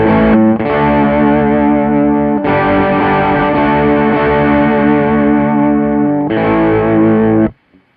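Electric guitar run through the Deplike amp app with heavy distortion for a rock tone: loud, sustained chords ring with overtones, change twice, then cut off abruptly near the end.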